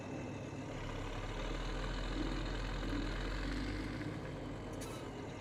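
A Ford tractor in Farming Simulator 2017 idles with a steady, low, even engine rumble that holds unchanged throughout, with no speech over it.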